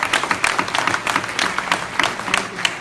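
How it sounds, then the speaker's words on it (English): Steady applause from a crowd at a lecture event, many hands clapping together with bright, dense bursts throughout, fairly close and lively. "Let's give a round of applause for everyone that came out"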